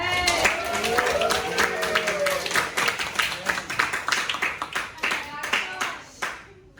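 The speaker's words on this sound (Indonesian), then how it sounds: "Tepuk dulu buat Nuri dong." High school students clap together in a classroom, a lively round of close handclaps that thins into a few scattered claps before stopping.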